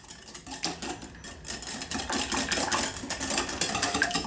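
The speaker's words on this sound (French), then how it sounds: "Et là, je mélange comme il faut" A spoon or whisk beats custard with liquid vanilla and a pinch of cinnamon in a bowl, a fast, rapid clatter of utensil against the bowl that builds slightly louder and runs steadily without pause or voices.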